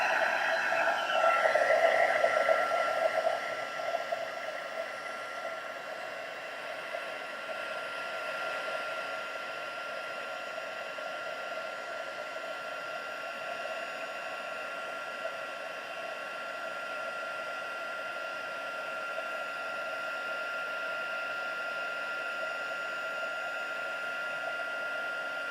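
A heat tool blows steadily for embossing powder on a papercraft project, a continuous close whooshing hum that is slightly louder at the start and then holds even throughout.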